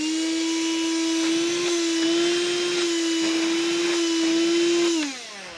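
Black & Decker DustBuster Turbo Plus handheld vacuum runs with a loud, steady high whine close by, then powers down with a falling pitch at the end.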